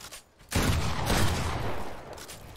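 A burst of loud pump-shotgun fire in a video game erupts after a brief quiet moment, booming shots blending into a sustained, echoing roar of game combat.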